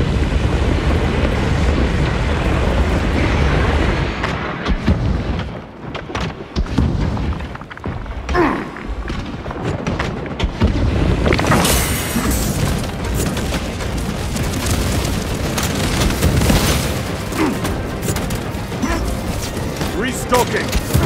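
Heavy explosions and booming blasts from a destroyed target in the video game Space Marine II, with loud rumbling bursts, clanking mechanical noise and a brief quieter gap midway before the roar resumes.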